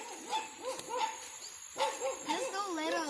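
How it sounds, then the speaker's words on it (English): Small puppies yipping and whimpering in short, high-pitched bursts, fairly close, with a pause midway before a second flurry of little barks. "I love these puppies barking sounds."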